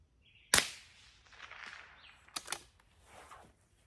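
.22 LR rifle shots fired at a target 200 yards away, one sharp loud crack followed by two quicker reports a couple of seconds later, each trailing off in outdoor echo.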